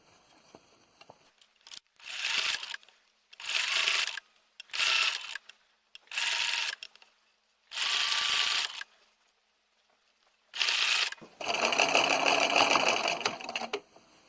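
A sewing machine stitches gathered fabric scraps in loud, whirring bursts separated by short pauses, ending in a longer continuous run, close up and without any talking.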